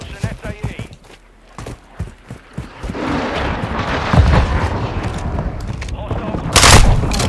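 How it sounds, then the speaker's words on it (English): Shotgun fire in Modern Warfare 2 multiplayer, a few sharp blasts early and a loud heavy shot near the end, over rumbling game noise while someone talks throughout. "And he uses a shotgun."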